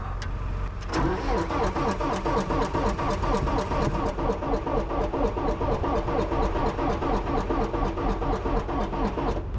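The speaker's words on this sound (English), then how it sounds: "See if it can fire up without any ether this morning" A cold engine cranking without ether, a loud, fast, steady rhythmic churn of the starter running on and on without catching, close by, with no talk.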